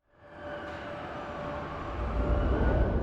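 Layered city scene: wind and urban ambience swell in, with an ambulance siren's steady wail rising on top, all building louder over a few seconds.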